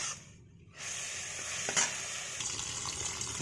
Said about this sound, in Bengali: এটা চিংড়ি মাছ ভাজা হচ্ছে